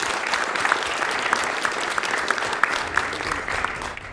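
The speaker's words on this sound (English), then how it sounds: "Let's give him a round of applause." A crowd at a Games Done Quick speedrun event applauds steadily, sustained clapping at moderate loudness with no talking over it.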